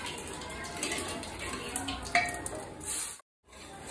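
Chopped onions sizzle with cumin in a pan, a steady close frying hiss with a few stirring scrapes and light clinks, cutting out abruptly for a moment near the end before resuming.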